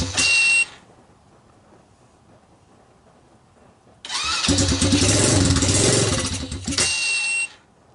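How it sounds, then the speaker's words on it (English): China mid-size ATV with a high-performance pit bike engine trying to start: a brief high chirp, a quiet gap, then about three seconds of loud cranking and sputtering that cuts off, close up. "Let's give that a try."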